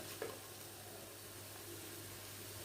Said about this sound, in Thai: ใส่กะทิที่เหลือลงไปเลยนะครับ